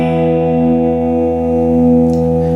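A big open chord strummed on the neck pickup of a Warmoth Jazzmaster electric guitar sustains loud and steady for the whole stretch, a dark, full ringing tone with no voices over it.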